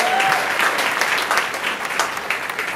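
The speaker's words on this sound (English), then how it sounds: "Give him a huge round of applause." An audience at a stage magic show in Long Beach claps enthusiastically, sustained applause filling the room for a few seconds.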